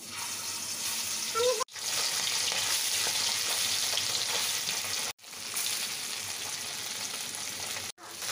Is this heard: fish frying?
yes